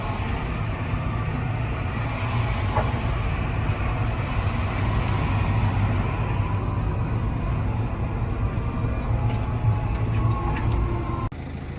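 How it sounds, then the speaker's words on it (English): A tractor trundles back to the yard over speed bumps with a steady, loud, continuous engine drone and mechanical rumble that holds level throughout. "let's get this tractor trundled away back to the yard"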